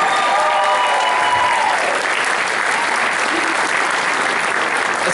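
A banquet hall crowd at a college football awards banquet claps steadily and densely, with a voice briefly audible at the start.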